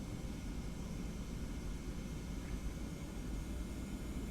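Boeing 717-200 jet engines spooling up as the throttle is advanced while taxiing, a steady, broadband roar heard from inside the cabin, fairly faint and unchanging.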